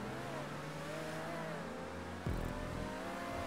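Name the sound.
car engine revving in the video game GTA V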